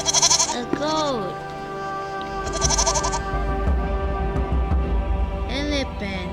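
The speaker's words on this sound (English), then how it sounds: "A goat." A goat bleats in several loud, wavering calls with pauses between them, near and clear, over a steady background hum.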